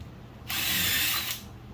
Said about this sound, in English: I'm going to drill that one